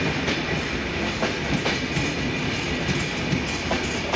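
The Chilahati Express intercity train runs at Saidpur station, with a steady, loud rumble of wheels and rhythmic clickety-clack over the rails and no voices.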